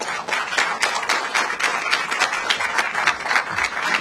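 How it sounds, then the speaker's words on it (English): Audience applause after a speech at the opening of an Indian jewelry store, a steady crowd of hands clapping with dense, even patter lasting throughout, fairly close and with no talking over it. "please give Mr. Randir Jaiswal another round of applause"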